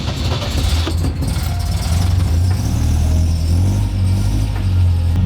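An MGB sports car engine turning over with the choke out after a few throttle pumps, catching into a steady loud low rumble that swells slightly as it settles, close by with no talking.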